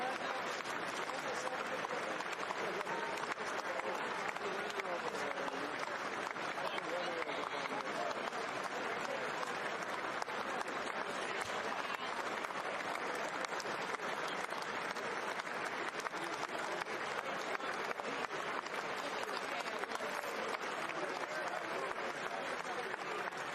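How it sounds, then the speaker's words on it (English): Long, sustained applause from a large crowd, dense and steady clapping filling the whole stretch at even loudness, with scattered voices mixed into the din. "you must have some pretty tough hands to be clapping for that long"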